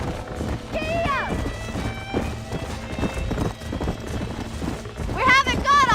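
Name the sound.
horse galloping and whinnying in video game Red Dead Redemption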